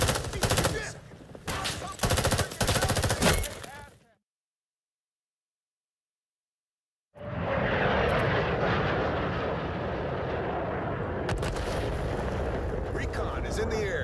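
Aircraft roar overhead in the video game Rising Storm 2 during an attack on the Demilitarized Zone, a loud sustained rumble that swells in after a few seconds of silence, following an earlier burst of mixed battle noise and voices.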